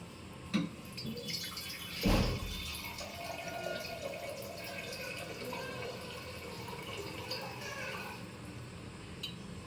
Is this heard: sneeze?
no